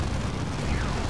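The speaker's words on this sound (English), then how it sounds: "Launching grenade." A grenade blast in the strategy game Dawn of War 2, a brief, loud, dense boom with a broad rumbling burst that fills the whole moment, no voice over it.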